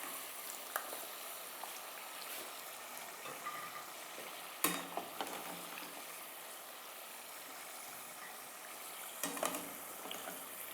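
Sweet potato chips deep-fry in hot oil, browning beside beer-battered fish, a faint, even bubbling hiss with a couple of sharp knocks.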